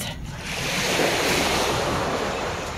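Sea waves wash steadily onto a beach at Port Barton, Palawan, a continuous loud surf with some wind noise across the microphone and no voices.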